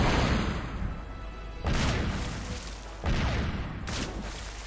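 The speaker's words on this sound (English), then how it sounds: "Now that is a cannon sound. Like a futuristic cannon sound." Three heavy, booming synthetic blasts fire in sequence from a futuristic cannon in the PC game The Curse of Monkey Island, each a sharp burst decaying into a long, noisy roar.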